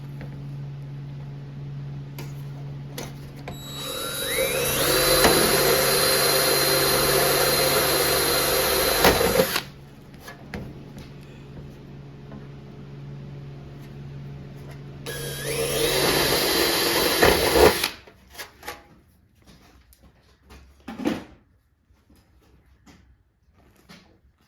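A power drill boring holes for 1/8 inch rivets, whining loudly in two long bursts that ramp up in speed, with quieter clicks and handling noises after.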